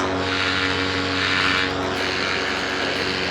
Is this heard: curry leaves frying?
no